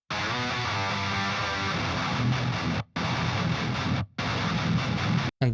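Double-tracked heavy distorted guitar for a djent breakdown, layered through a free overdrive plugin, plays loud and dense in chugging riffs, cutting to silence in short stops between bursts.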